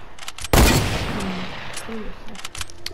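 A gunshot in the video game Fortnite, a sharp loud blast at the start that decays into a reverberant tail, followed by softer scattered in-game effects.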